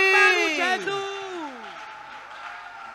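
A church congregation at a Mother's Day service cheers for Jesus. A loud rising whoop opens into a sustained wash of crowd voices and clapping that fades slightly but carries on.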